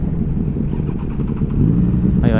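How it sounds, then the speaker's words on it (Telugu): Motorcycle exhaust on a ride with a group of bikes such as a Benelli 600i, Ducati Diavel, Street Triple 765 RS and CBR650F, a steady close engine drone with wind rush that swells louder toward the end. "ఇది ఎగ్జాస్ట్."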